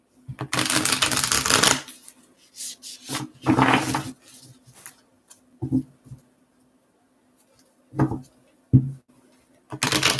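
Repeated bursts of tarot cards being shuffled, riffling in short loud flurries separated by quiet pauses, close to the listener.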